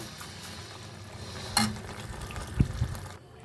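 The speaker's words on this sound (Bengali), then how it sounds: "এখন আমি চিনিটাকে ভালো করে মিশিয়ে দেব" Sugar is stirred into green tamarind chutney in a pot, with soft wet stirring and a low hiss, a sharp utensil clink partway through and a couple of dull knocks near the end before it goes quiet.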